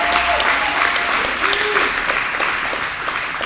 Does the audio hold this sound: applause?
yes